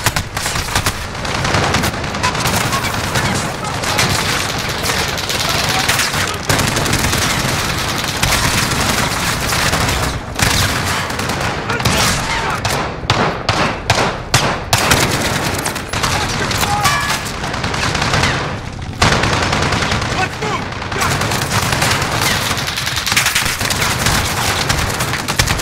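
Sustained gunfire from a Call of Duty firefight, dense bursts and automatic weapon fire rattling loudly and continuously with scattered explosive booms, no speech.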